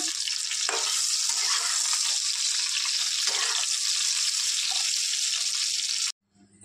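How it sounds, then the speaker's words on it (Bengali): Jackfruit pieces sizzle in hot oil with a loud, steady hiss, interrupted by a couple of scraping turns as they are flipped, before the sound cuts off abruptly near the end. "কাঁঠালটাও এপাশ ওপাশ করে উল্টিয়ে দিচ্ছি"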